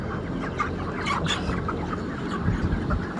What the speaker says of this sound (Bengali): দেখেন কত মুরগি অনেক লম্বা কিন্তু ফার্ম